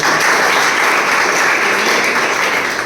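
Loud, continuous applause from an audience at a cyber security awareness program, a dense wash of clapping sustained evenly for the whole stretch.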